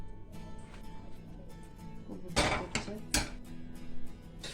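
A utensil stirs oil in a pan while making homemade noodles, sounding as a few close clinks and scrapes of metal on cookware, with a couple of louder knocks partway through.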